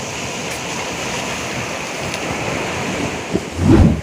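Waves wash onto a sea beach at high tide, a steady loud surf roar with wind buffeting the microphone and a heavier surge building near the end.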